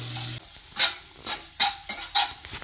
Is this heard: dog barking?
no